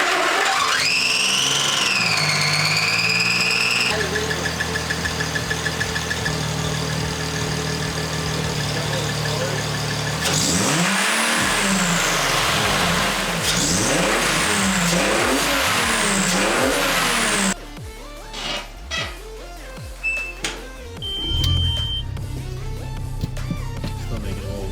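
Volkswagen GTI with a rebuilt transmission, heard from inside while driving: the engine revs up and falls repeatedly through the gears, with whining and rising tones, then settles into a quieter idle-like rumble with some scattered clicks.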